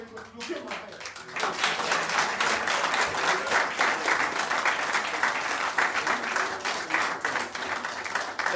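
After a brief voice at the start, a mosque audience breaks into sustained applause, many hands clapping loudly and steadily for several seconds without a pause.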